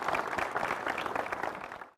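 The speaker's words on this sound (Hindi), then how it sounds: "तो इनका भी जोरदार तालियों से अभिनंदन कीजिए।" A school audience claps steadily for a vice principal introduced as a guest at a discussion programme, a dense close round of applause lasting the whole moment and tailing off at the end.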